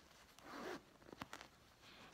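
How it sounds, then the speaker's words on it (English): A zipper being worked on a silk pillow handbag insert with regular stuffing: quiet, soft zipping strokes, one longer pull followed by a few short, scratchy bursts close by. "But at least there's a zipper."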